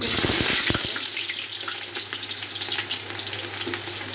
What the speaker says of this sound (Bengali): এখন দিয়ে দিব এই পেঁয়াজ বেরেস্তার জন্য পেঁয়াজ দিয়ে দিব